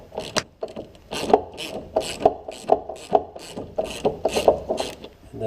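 A hand ratchet loosens a 14mm bolt on a rear Koni shock mount, giving a steady run of close, sharp clicking pawl strokes in quick repeated bursts, with no talking.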